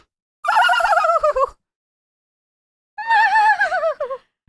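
Two separate wavering, high-pitched wails from a human voice imitating a loon call, pitched higher than the real bird; each lasts about a second with a quiet gap between, and the tone quivers like a horse's whinny.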